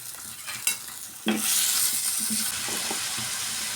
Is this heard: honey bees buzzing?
no